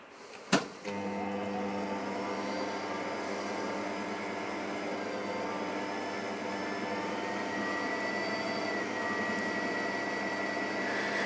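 A small metal lathe starts with a sharp click and then runs steadily with a constant whine and hum for the rest of the clip, close and even, with no talking.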